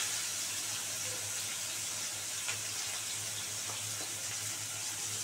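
Potatoes fry in hot oil with nigella seeds and onions for a fish curry, a steady, close sizzling hiss that continues evenly throughout.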